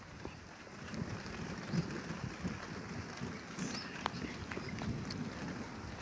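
Light rain falls and cold wind blows over open country in Kotda block in March, a soft, continuous hiss of drizzle and gusts that stays fairly quiet and even throughout, with no talking.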